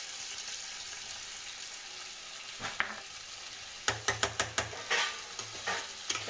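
Chili chicken frying in a pan with tomato ketchup added, a constant sizzle broken by a quick run of sharp spatula clacks and stirring scrapes against the pan, no voices.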